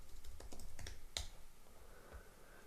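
Quick, light keystrokes on a computer keyboard in a quiet room, a brisk run of clicks with one sharper tap midway, then a few scattered presses trailing off.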